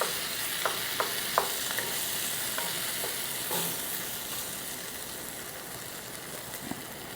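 Cream cheese stirred into a smoky dip in a pan over low heat: a steady sizzle runs throughout, with a few sharp scrapes and clicks of the spoon against the pan, close by and with no talking.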